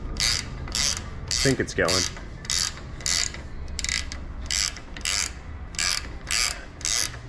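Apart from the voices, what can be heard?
big ratcheting wrench turning a bolt on a 2018 Jeep Wrangler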